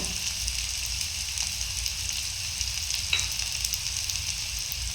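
Chopped garlic frying in oil in a pan for a Tamil anchovy thokku, a steady, even sizzle that holds for the whole stretch, with one faint clink partway through.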